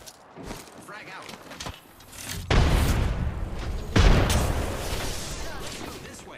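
Frag grenades go off in Apex Legends as two heavy, muffled blasts about a second and a half apart, each followed by a rumbling tail, with game noise and voices around them.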